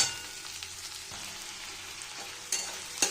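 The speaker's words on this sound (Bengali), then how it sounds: "অল্প করে পেঁয়াজটা একটু লালচে লালচে করে ভেজে নেব" Chopped onion frying in a little oil until it browns, a soft, steady sizzle with a few sharper stir-and-scrape bursts near the end, nearby and free of talk.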